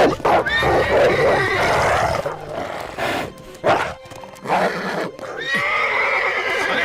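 A cartoon horse ridden by a prince through a forest gives loud, shrill whinnies and snorts at the start and end, with hoofbeats and other effects in between, heard alone without speech.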